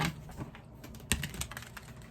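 A deck of tarot cards is shuffled by hand, producing soft rapid clicks and brushing taps close by, with one sharper snap midway and no voices.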